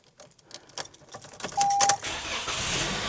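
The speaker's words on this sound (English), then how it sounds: "So I'm going to start the vehicle." A 2022 Toyota Corolla parked on an incline starts up: keys jangle and click at close range, then the starter cranks and the engine catches and settles into a steady idle.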